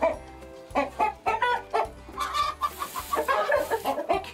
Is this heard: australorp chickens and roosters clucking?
yes